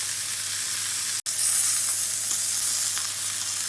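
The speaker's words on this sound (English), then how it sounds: "So I'm going to turn these steaks again to give them a little bit more of a sear on the other side." Beef steaks, Cote du Boeuf and sirloin, sear in a hot pan with a loud, steady sizzle and hiss that cuts out for a split second partway through, then resumes just as strong.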